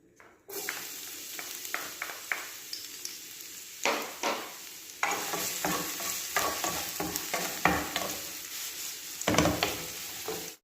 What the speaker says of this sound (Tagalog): maglagay ulit tayo ng mantika, ng ating oil para sa paggigisa. Unahin natin yung ating garlic